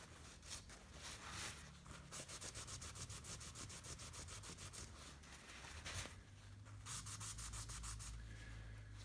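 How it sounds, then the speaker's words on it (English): Rapid, rhythmic scraping of sandpaper on wood, close and continuous, in quick back-and-forth strokes with brief pauses. "So there's a little more sanding,"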